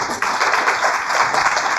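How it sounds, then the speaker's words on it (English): An audience at a tech industry panel event applauds the panelists with a short burst of dense clapping at moderate distance. "Another round of applause for the panelists."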